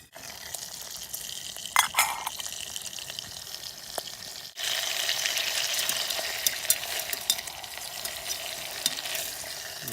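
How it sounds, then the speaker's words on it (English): Steady crackling sizzle of food frying over a campfire in a forest, with occasional stirring scrapes and pops, continuous throughout and fairly close. "I can hear it sizzling."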